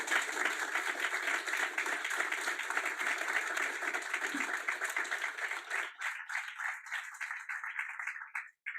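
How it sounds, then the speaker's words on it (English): A conference audience applauds after a session talk. The clapping is dense and moderate for about six seconds, then thins into scattered claps before stopping. "If we can please give a round of applause."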